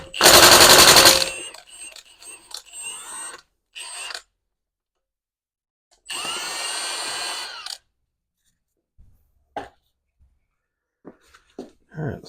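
A half-inch impact wrench on its lowest setting rattles in a loud hammering burst, followed by shorter bursts and a second sustained run, while loosening bolts on an 8.2-inch 10-bolt BOP rear axle; clanks of parts fill the gaps.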